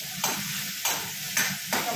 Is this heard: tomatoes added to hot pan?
yes